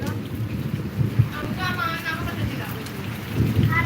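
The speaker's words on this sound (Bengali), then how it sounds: "আমরা বৃষ্টি দেখাচ্ছি" Steady rain falls on a surface in a continuous wash of noise, with low rumbling beneath and brief voices in the background.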